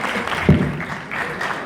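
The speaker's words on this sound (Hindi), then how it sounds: "आपकी तालियों में प्लीज़ जरार रिजवी साहब आप स्टेज पर आइए।" Brief burst of audience applause at a music event as a guest is invited onto the stage, scattered clapping that swells and fades within a couple of seconds.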